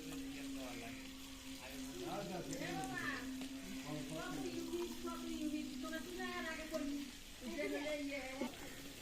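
Chopped onion and green chili fry in oil in a pan, a constant soft sizzle under a voice talking nearly the whole time.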